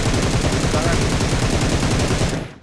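Rapid automatic gunfire in the BGMI battle royale game, loud and continuous bursts of closely spaced shots filling the whole stretch before cutting off abruptly at the end.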